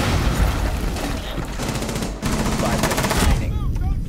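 Rapid automatic MP7 submachine gun fire in Rainbow Six Siege, loud close bursts rattling almost continuously, with a brief break midway and a voice calling out near the end.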